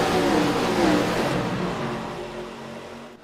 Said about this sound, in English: Field trying to get up the speed here into turn number 1